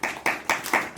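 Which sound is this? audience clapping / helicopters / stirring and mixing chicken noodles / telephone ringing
audience clapping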